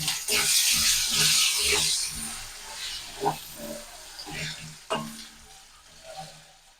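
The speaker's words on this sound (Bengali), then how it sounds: "সামান্য একটু লবণ দিয়ে দেবো, আর দিয়ে দেবো হলুদ। দিয়ে একটু কাঁচা কলাটা ভেজে নেব।" Raw green banana frying in a pan with salt and turmeric, a loud close sizzle that fades into softer crackling with a few sharp spatula scrapes and taps against the pan.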